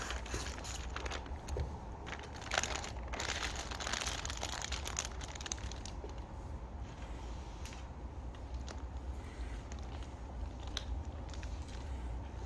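Plastic wrap crinkles, creaks and crackles steadily and close by as a flower bouquet is wrapped in a florist's shop, with no talk.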